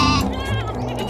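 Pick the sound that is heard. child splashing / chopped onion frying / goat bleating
goat bleating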